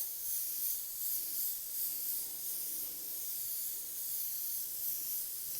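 An airbrush dusts paint lightly over a stencil on a leather saddlebag, a continuous soft, airy hiss that swells and eases gently in short waves, close and alone.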